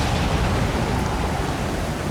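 Steady broadband hiss of heavy rainfall in the video game Stranded Deep, dense and unbroken throughout, with no voices or distinct events standing out.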